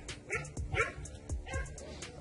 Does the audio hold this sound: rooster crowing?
no